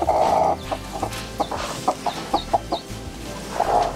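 Native chickens cluck close by in a quick series of short, sharp calls, with a couple of louder squawks at the start and end and some farmyard rustle beneath.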